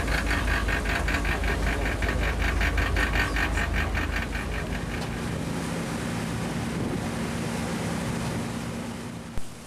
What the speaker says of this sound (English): While we were on the ferry boat